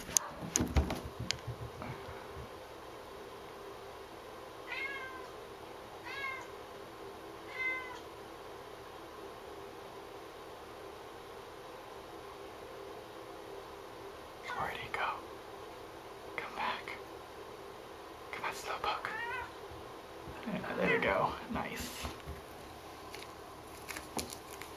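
A cat meows in several short, faint calls spread across a quiet indoor scene, while a person speaks softly at times.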